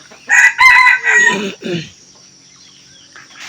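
A red junglefowl rooster crows loudly and close by, one full cock-a-doodle-doo lasting over a second, followed by quiet with faint background noise.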